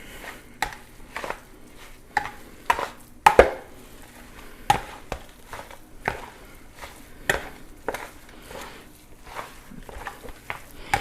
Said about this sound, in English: see how easy it is with the potato masher because it's mashed all the meat together